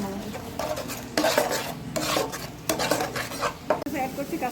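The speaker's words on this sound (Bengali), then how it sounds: "ভালো মতো করে মিক্স করে আরও ভেজে নিচ্ছি" Spices with turmeric, salt and red chili powder stirred and fried in a pan for a pabda fish curry, repeated close metal spoon scrapes and clatter over a low sizzle.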